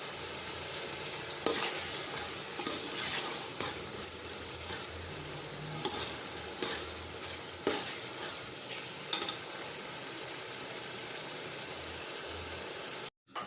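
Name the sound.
stirring turmeric powder into frying chana pulao in pot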